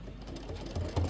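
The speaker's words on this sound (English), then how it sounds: "You're going to stitch the outer ornament placement line. Go ahead and just hit start" An embroidery machine stitches an ornament placement line on quilting fabric, giving a low, continuous mechanical hum with faint rhythmic needle ticking, quiet and close.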